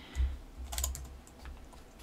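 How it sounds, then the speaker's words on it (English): A computer keyboard sits behind the microphone and is typed on during a SimAirport gaming session, a short burst of quiet irregular key clicks and thumps, alone without talk. "I have the keyboard behind the microphone"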